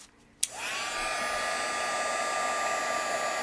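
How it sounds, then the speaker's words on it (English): A Marvy heat embossing tool switches on with a click and then blows hot air in a steady, loud, even whoosh that holds for about three seconds, used on superfine embossing powder for a craft technique. "I'm using my Marvy heat embossing tool."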